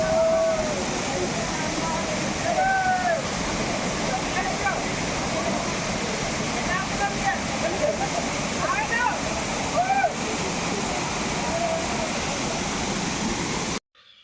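Pampanal waterfall in Kottayam, Kerala, roars as a steady broadband rush of falling water, loud and continuous throughout, with faint voices or song partly mixed in beneath the water noise.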